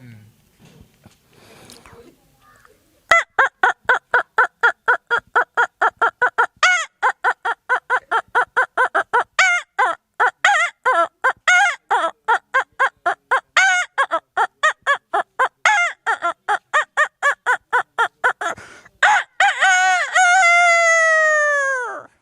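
A voice imitates a rooster crowing in the style of a popular rooster tune, with rapid rhythmic clucking bursts building into a long, drawn-out crow at the end, loud and close.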